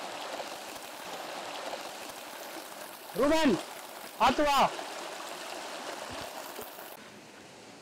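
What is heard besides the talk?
water pouring at TP Kota waterfall stream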